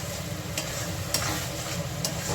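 Tomatoes sizzle in a pan with a vegetarian jackfruit curry as it is stirred, a steady close crackle of frying with a few scraping stirs of the spoon and no talking.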